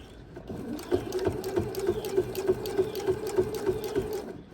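Sewing machine slowly stitching a scant quarter-inch seam on quilt binding toward a mitered corner, a continuous close, even mechanical whir with rapid regular needle beats throughout.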